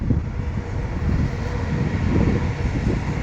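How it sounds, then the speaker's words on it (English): A train rumbles past near Amsterdam, a loud, continuous roar with wind buffeting the microphone throughout. "Train."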